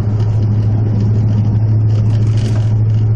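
A 1979 Chevy El Camino with true dual exhausts drones steadily from inside the cabin at cruising speed, a low, constant engine hum with muffled road noise and no speech.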